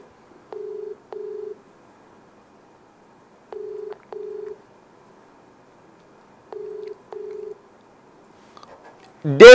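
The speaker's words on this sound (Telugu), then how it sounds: "డేవిడ్ నెంబర్ రింగ్ అవుతోంది" An outgoing phone call rings back through the handset: three evenly spaced double-pulse ring tones separated by silence, ending in a sudden loud burst of noise.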